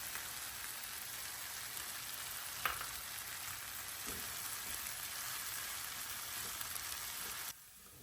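Cooked chicken and softened onions frying together in a pan for chicken chatti pathiri filling, giving a steady, fairly quiet sizzle with a couple of faint knocks and a sudden drop near the end.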